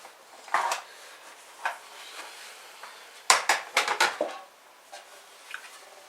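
Dishes, pots and cookware being shifted aside in a kitchen by a wood stove, giving scattered clinks and knocks, with a brief cluster of sharper clatters midway, close and moderately loud.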